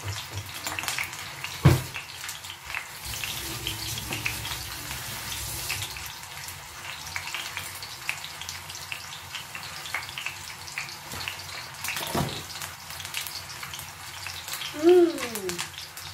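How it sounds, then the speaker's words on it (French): A kitchen water tap runs while someone rinses their hands, a steady low splash and trickle with a few louder knocks and clatters along the way. "je vais peut-être me rincer les mains."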